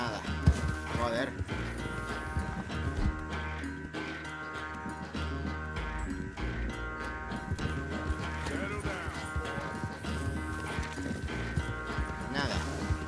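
A horse gallops in Red Dead Redemption 2 during a train chase, its rhythmic hoofbeats drumming steadily under loud game music and voices.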